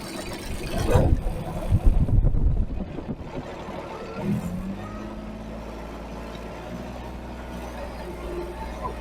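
A heavy tractor engine rumbles steadily throughout while sowing barley, with a louder burst of mechanical noise near the start before settling into a constant low drone.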